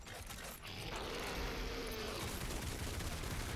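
Full-automatic gunfire aimed at Pinky demons in DOOM Eternal: a dense, continuous, loud rattling barrage with mechanical clatter, running unbroken for several seconds with no talk.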